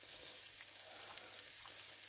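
Chorizo slices fry in a pan with a faint, steady sizzle and small crackles and pops scattered throughout, no talking over it.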